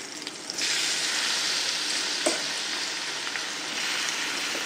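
Raw cashews tipped into a simmering raw mango curry in a pan, giving a steady close sizzle and bubbling with a few soft stirring knocks.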